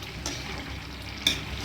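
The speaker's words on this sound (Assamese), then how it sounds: "এই আজি অলপ ব্ৰইলাৰ আনিছিলোঁ বা ব্ৰইলাৰ ভাজি আছোঁ।" Broiler chicken fries in a pan while being stirred, a steady close sizzle with scraping stir strokes and a sharper clatter near the end, no talking.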